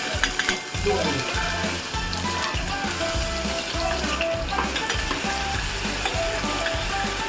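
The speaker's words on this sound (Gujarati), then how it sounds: "ગરમ થાય એટલે આપણે એમાં એડ કરીશું રાઈ અને જીરું" Mustard seeds and cumin crackle and sizzle in hot oil for Kolhapuri misal, a loud, dense, continuous frying hiss up close, with light stirring and no voices.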